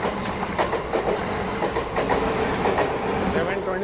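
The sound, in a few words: train wheels clattering on rail track, Amrit Bharat Express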